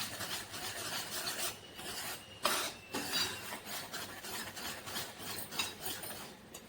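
Cardamom powder being stirred into melting jaggery, a steady scraping, rasping rub of a spoon against the pan, repeated in uneven strokes at close range with no voices.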